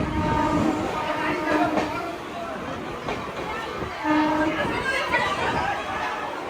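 Kolkata Sairang Express pulling into the crowded Krishnanagar City Junction platform, with steady rolling rail rumble, a couple of short horn tones and constant passenger chatter around.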